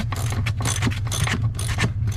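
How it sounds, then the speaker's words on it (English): Rapid ratcheting clicks from a wrench undoing the front seat bolts on a 2015 Freightliner Coronado semi truck air-ride seat, a steady close mechanical chatter over a low hum. "So I'll undo these bolts here, the front 2"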